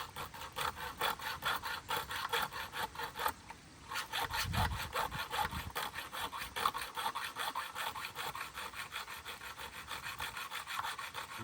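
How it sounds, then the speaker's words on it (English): Small hand saw cutting through spring pump pipe, a close, rhythmic rasping of quick back-and-forth strokes that continues steadily with a brief pause early on. "I got this small little saw here, hoping to use some finesse"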